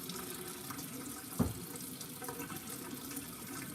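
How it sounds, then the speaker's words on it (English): Water trickles softly and steadily into a flower pot as cut flower stems are being rerooted, a faint continuous flow with one small splash. "I'm just going to put a little water in it,"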